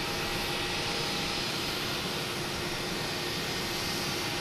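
A JetBlue jet airliner at Boston Logan Airport produces a dense, loud, unbroken engine roar with a steady whine on top, filling the whole moment without talk.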